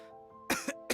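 A Genshin Impact character coughs twice, with a breathy throat-clearing catch between the two bursts. The coughs are sharp and close, over a faint sustained musical tone.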